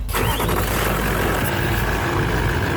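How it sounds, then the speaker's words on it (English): A car engine cranks and fires up during a battery cranking test, a loud continuous close-up roar that settles into a steady run with no voices over it. "Please start the engine."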